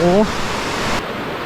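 Steady rushing water of a waterfall at Phu Tham Phra, Bueng Kan province, Thailand, a loud continuous wash of noise, with a brief voice at the very start.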